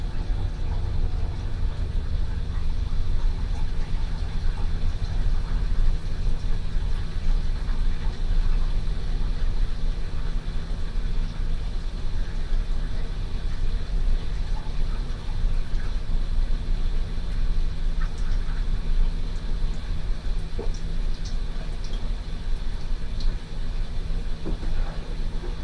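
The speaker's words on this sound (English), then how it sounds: "There, the obligatory train interruption is out of the way." A passing train, heard indoors as a steady low rumble and drone that holds for the whole stretch with faint clanks on top, no voices.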